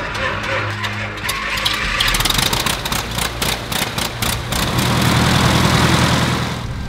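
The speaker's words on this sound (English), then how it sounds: "Master switch on, and then we're going to start it on the left mag only" A Bellanca Citabria tailwheel airplane engine is started on the left magneto. Rapid mechanical clatter and cranking are heard up close, then a rougher, steadier engine run settles in.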